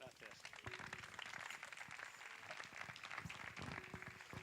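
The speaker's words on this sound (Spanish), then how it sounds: "le damos un fuerte aplauso" An audience applauds at an event honouring the grandfather Delibes, a dense, steady patter of clapping over the full stretch with voices talking through it.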